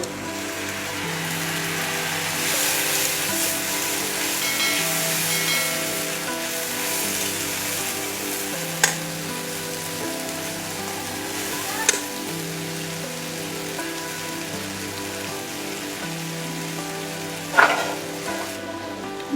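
Pabda fish frying in a pan gives off a steady, loud, close sizzle, broken by a few sharp clicks of a utensil.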